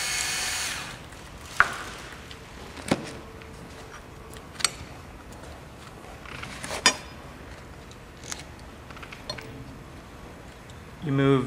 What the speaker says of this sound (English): To remove these 12 millimeter bolts that hold the bracket in place.